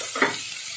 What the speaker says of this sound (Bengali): তেল গরম হয়ে গেছে, আমি এবার কিছুটা কাঁচা লঙ্কা কুচি দিয়ে দেবো